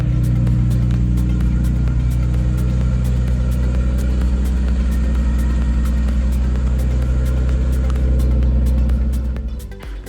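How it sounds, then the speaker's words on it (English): A car engine runs steadily at idle with a noisy thrust bearing, giving a loud, constant low rumble and whirr that holds throughout before cutting off abruptly at the end. "Now this one has a noisy thrust bearing."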